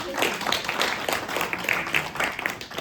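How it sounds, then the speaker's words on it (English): An audience claps together at a live evening event with Steve Somers, a steady wash of applause lasting a few seconds with a faint voice underneath. "deserves applause"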